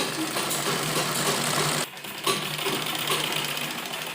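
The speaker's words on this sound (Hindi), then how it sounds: "और अब हम सिलाई करते हैं" A sewing machine stitches kurti fabric with a fast, steady mechanical whir heard up close, pausing briefly midway before running on again.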